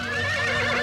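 A robot horse from the animated series Bravestarr gives a short, loud whinny, a brief shrill neigh that fills the whole moment on its own.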